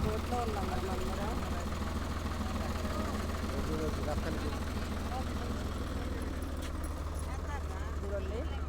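A boat engine drones steadily on a river near Amaravati, a continuous low hum with people talking over it throughout.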